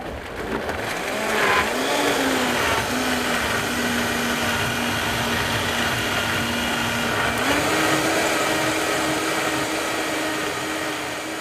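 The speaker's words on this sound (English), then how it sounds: "So we blended it to where it made a thick gelatinous paste." A blender whirs continuously as it purees an herbal poultice into a thick paste. The motor hums loud and close with a steady whine, and its pitch shifts slightly as the mixture thickens.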